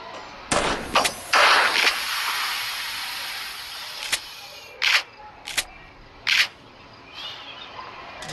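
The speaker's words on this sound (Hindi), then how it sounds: "यहाँ पे मारते हैं निशाना।" Gunshots fired from a gun in the horror video game Granny 2, a few sharp cracks spaced irregularly, the first ones louder and longer, with later shorter bursts standing alone against quiet background noise.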